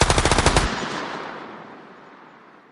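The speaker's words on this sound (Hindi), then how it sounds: "सर लग रहा है दरवाजे के पीछे कोई मशीन गन चला रहा है" A quick burst of about eight rapid machine gun shots, loud and close, followed by a long echoing reverberation that slowly fades away.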